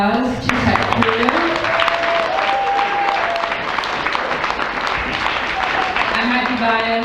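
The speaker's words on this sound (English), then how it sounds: "So if you could give a round of applause to Tech Crew." Steady applause from a school assembly crowd for the sixth-grade tech crew, loud and continuous throughout, with voices and cheering audible over the clapping.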